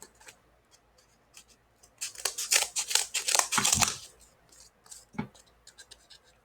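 Scissors cutting craft material for a Millennium Ring, a burst of close, crisp snipping and scratching in the middle with quieter clicks before and after.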